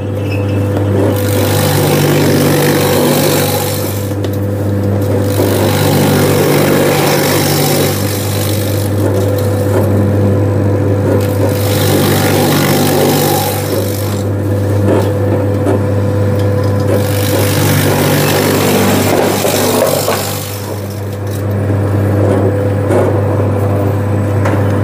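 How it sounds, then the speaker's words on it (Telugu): A leafy vegetable cutting machine, model LC60, cuts radish with a loud, steady motor hum and a slicing churn that swells and eases in several long passes, close by. "ముల్లంగి ఈ విధంగా మనకి ముల్లంగి కూడా కటింగ్ చేసుకోవచ్చు."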